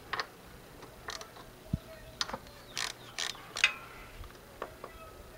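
A ratchet clicks in short bursts while snugging spark plugs on a Honda Nighthawk motorcycle, close and fairly quiet, with scattered metallic ticks between pauses.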